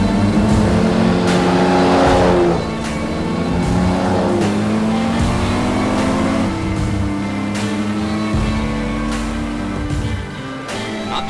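A vintage Aston Martin sports car races toward the finish, its engine roaring loudly and shifting pitch as it accelerates and passes, with a surging, fading drone against crowd noise.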